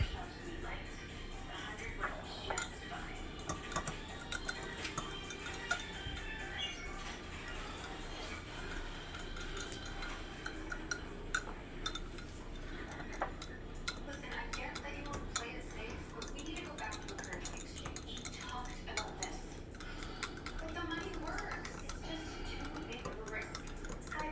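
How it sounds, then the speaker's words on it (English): Eggs whisked together in a bowl for keto chaffles: a rapid, steady run of light clicking and tapping against the bowl's sides, close and fairly quiet, continuing unbroken for the whole stretch over a low background hum. "now we just whisk the eggs together"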